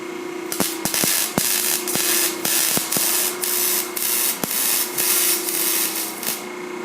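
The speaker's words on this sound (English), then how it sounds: "Yeah, I'm gonna weld this." Exhaust welding in a muffler shop: a steady loud crackling hiss with repeated sharp clicks and taps, continuous and close, without talk.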